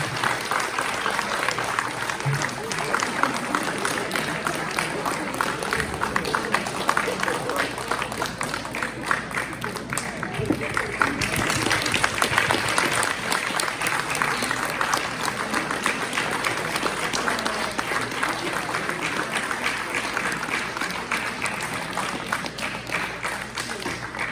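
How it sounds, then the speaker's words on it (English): An audience at a Pongal festival celebration breaks into a long round of applause, steady dense clapping that stays loud and even throughout with crowd murmur mixed in. "Can we have a wonderful round of applause"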